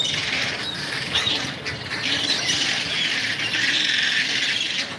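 A crowd of birds squawks harshly and continuously, a dense noisy chorus of overlapping calls close by, with some pattering and rustling underneath.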